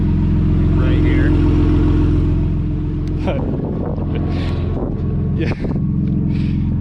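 BMW E46 M3 with a turbocharged S54 engine, mid pipe removed and running only the downpipe, rumbles loudly and steadily at idle, with broadband exhaust and wind noise and brief throttle blips, while a voice speaks briefly.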